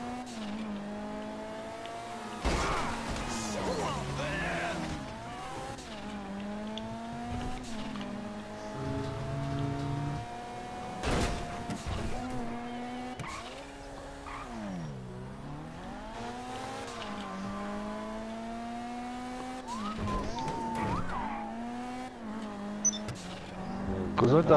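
Cars in the video game Bouncer drone with engine noise and tire squeals, skidding and crashing throughout a busy stretch, with the game's sounds steady and loud over a long passage.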